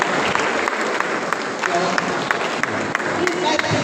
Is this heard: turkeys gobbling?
no